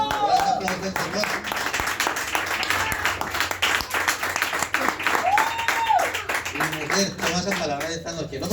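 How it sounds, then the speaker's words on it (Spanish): A church congregation applauds for the Lord during an evening service in Argentina, steady dense clapping filling the space while a preacher's voice and other speech carry on over it. "Por eso, un aplauso al Señor."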